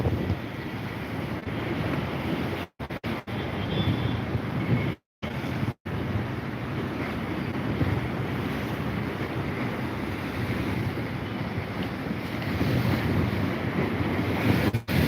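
Strong wind buffets the microphone and sea waves wash steadily on the shore by the Cleopatra area, a constant loud roar with a few brief dropouts.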